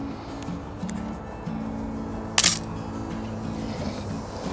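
Canon AE-1 35mm film camera firing its shutter outdoors during landscape shooting, a single sharp mechanical click near the middle over steady low background hum, followed by faint film-advance ratcheting.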